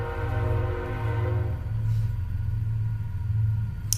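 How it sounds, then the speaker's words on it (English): Low, steady rumble of a passing train close by, a continuous heavy drone with faint tonal hum, no voices over it. "How cool is it that we get to get the train on the video?"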